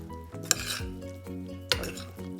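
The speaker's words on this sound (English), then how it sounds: "So give the whole thing a quick mix." Paneer and vegetable stir fry with carrots is tossed in a pan, with two sharp metallic clanks of the utensil against the pan over faint sizzling. A steady tonal hum runs underneath.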